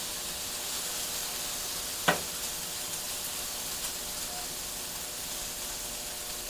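Mongolian beef steak sizzles on a Vevor 22-inch flat top griddle, a steady broad hiss throughout with one brief sharp tick near the start, moderately quiet and close.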